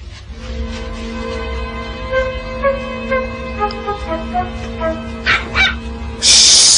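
A dog barks and yips in a series of short, close, uneven calls with whimpering tones, over a low background hum, ending with a burst of louder noise.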